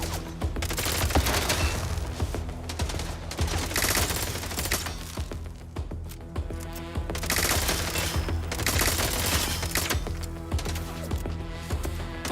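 Rapid gunfire from a recoil-heavy gun in the Mind's Eye video game, a dense sustained fusillade of repeated shots running throughout at steady loudness over a musical background.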